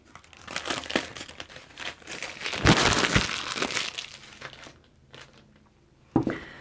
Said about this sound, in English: take the cellophane off